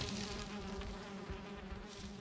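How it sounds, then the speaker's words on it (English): Bees buzz continuously around beehives in the Valheim video game, a dense steady drone heard close and alone. "we are finding the beehives"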